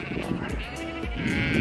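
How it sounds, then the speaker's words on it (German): Sheep roaming free at a remote Icelandic campsite bleat nearby, a wavering, nasal baa carrying over steady outdoor background noise. "Hier sind mega viel Schafe und Pferde."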